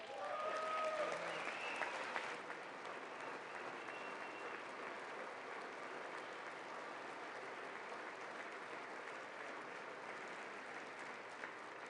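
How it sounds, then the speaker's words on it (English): Sustained applause from the audience in the chamber of Congress during a State of the Union address, a steady wash of clapping that is loudest at first and then holds evenly. "I wasn't sure if anybody, even on this side, was going to applaud for that."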